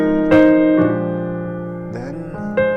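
A gospel piano vamp plays in full voicings, rich sustained chords struck a few times with bass notes and a short melodic run between them.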